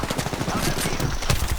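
In a video game, the Mastiff shotgun fires in rapid succession, a burst of close, loud gunshots packed into under two seconds.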